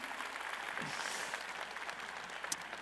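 An audience claps steadily, a dense wash of many hands that carries on at an even level throughout with no voices over it.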